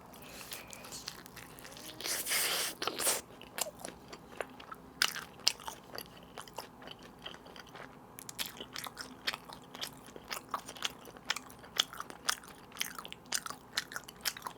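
Someone eats Mom's Touch allulose seasoned fried chicken up close, with a loud crunchy bite followed by steady wet chewing and smaller crunches, and no talking.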